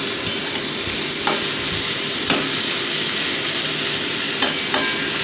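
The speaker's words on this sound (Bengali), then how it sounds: "মোটামুটি 2 মিনিট এটাকে আমি ভেজে নিচ্ছি।" Vegetables fry in a pan for chapila fish chachari with a seasonal winter vegetable, giving a steady low sizzle and hiss with a few sharp stirring scrapes scattered through, close and fairly quiet, with no talking.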